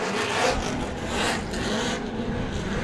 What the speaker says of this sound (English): drivers are enjoying a little bit of last-minute celebratory burnouts.